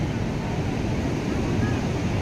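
Continuous low rumble of surf breaking on Payyambalam Beach in Kannur in the evening, with wind buffeting the microphone, steady and fairly loud, with a faint voice underneath.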